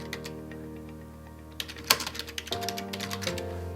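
Quiet, irregular keystrokes on a computer keyboard as a title is typed into video editing software, a close burst of clicks with no voices.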